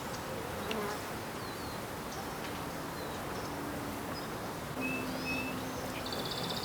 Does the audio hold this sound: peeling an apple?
no